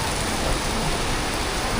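Heavy rain pours over Siam Square in Bangkok, a dense, steady hiss of water drumming on surfaces that fills every moment without a break, loud and close.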